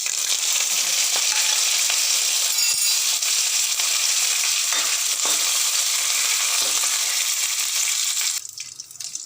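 Curry leaves and dried red chilies crackle in hot oil for a tempering, a loud dense hissing sizzle held close for several seconds before it suddenly dies down at the end.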